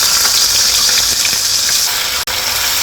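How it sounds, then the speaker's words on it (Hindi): Grated onion, squeezed of its water, frying in a pan for rajma: a loud, steady, close sizzle that fills the whole stretch without pause, with a brief break near the end and no talking. "और अब ये हम इसको फ्राई करेंगे।"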